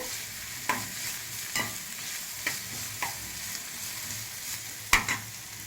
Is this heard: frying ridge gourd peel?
yes